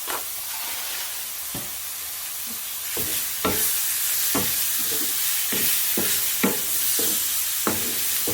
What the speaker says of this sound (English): Just want the garlic to be roasting.